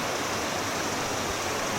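Water in a creek flows in a steady, broadband rushing wash, close and constant, with no voices over it.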